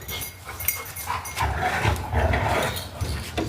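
A puppy whimpers and yelps in short, close bursts over a steady noisy background during a 2005 Jeep Grand Cherokee Laredo oil change outdoors, with no talk over it.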